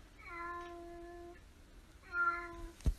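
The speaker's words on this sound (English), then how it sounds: "Hey Google, make a cat sound." Two clear cat meows played from a Google smart speaker, the first long and drawn out, the second shorter, followed by a brief thump; no talking.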